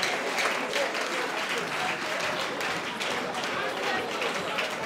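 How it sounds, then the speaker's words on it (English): An audience at a Nsukka Diocesan Choir concert applauds the composer, a steady dense wash of hand clapping that holds at an even level throughout. "let's give him a round of applause and welcome him to the keyboard"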